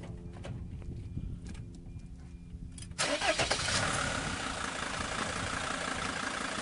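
A diesel Mercedes-Benz Sprinter passenger van with a 2.8-liter engine cranks and catches, then settles into a steady, loud idle that runs on without a break after the first few seconds of quieter background.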